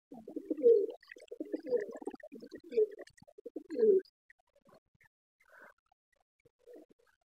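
Pet pigeons cooing in a cage, several soft throaty coos close by in the first four seconds, followed by quieter scattered calls and faint shuffling.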